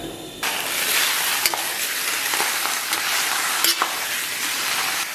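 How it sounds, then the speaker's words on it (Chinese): Slices of pork belly fry in a wok over low heat, giving a continuous sizzling crackle with a few sharp clicks of stirring on top, moderately loud and with no voices. "咱们小火把五花给它煸出油脂，把五花片煸炒至微焦黄"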